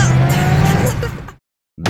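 A car drives hard on the sand of Fraser Island, a loud close engine roar with tire hiss that fades out abruptly, then briefly returns after a short gap of silence.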